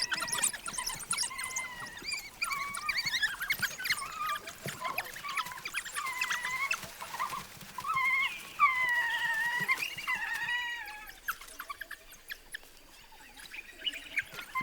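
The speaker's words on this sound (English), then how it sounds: "Yelping puppies eagerly greet the adults and lick their muzzles to encourage regurgitation." Wild dog puppies in Botswana yelp and squeal in a rapid, high-pitched chorus as they eagerly greet returning adults, a dense run of overlapping cries that thins out near the end.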